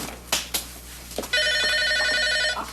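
A telephone line gives a single sustained electronic ring tone on an outgoing call, after a few soft clicks and taps in a quiet room.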